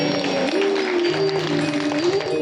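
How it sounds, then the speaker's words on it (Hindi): Audience members clap along during a Hindu religious discourse, a Shrimad Bhagavat Katha, in a garden setting. The clapping is steady and rhythmic, with sustained musical tones underneath, and no voices come through. "ताली बजाते रहिए,"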